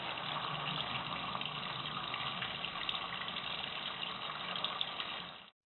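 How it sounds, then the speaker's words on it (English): Warm water runs steadily from a tap over an HP printer print head, a continuous close splashing hiss that holds even throughout and stops abruptly at the end. "Hold the print head under a water tap, running warm water for 10 minutes."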